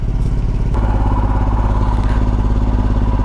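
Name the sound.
motorcycle engine running after starting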